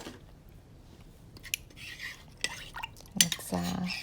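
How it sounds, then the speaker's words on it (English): Better Than Beef Bouillon being stirred into pot roast broth in a crockpot, heard as scattered light scraping and clinking of a utensil against the pot, building to louder stirring near the end. "mix it in well with the broth that's already in there."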